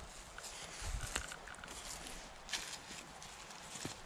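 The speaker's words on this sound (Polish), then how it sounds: "Ale koń." Horse hooves clip-clop on a path through a forest, a few uneven distinct hoofbeats at moderate distance over a steady outdoor background hiss.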